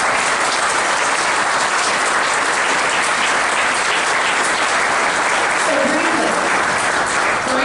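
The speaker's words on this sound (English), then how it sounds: "How about a huge round of applause?" Audience at a county State of the County address giving a long, loud round of applause, dense and sustained clapping filling the room at an even level for nearly eight seconds.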